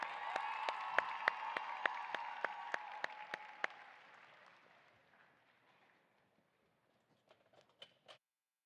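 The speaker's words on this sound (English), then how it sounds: "let's give a round of applause for our state officer candidates" An audience at an FFA association general session gives a round of applause, a crowd clapping that fades from moderate to quiet with a few scattered claps at the end.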